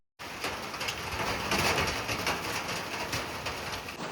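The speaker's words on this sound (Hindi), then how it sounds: "भाई लिटरली बहुत तेज बारिश हो चुकी है" Heavy rain pours down in a dense, steady roar close by, loud and unbroken with no voices over it.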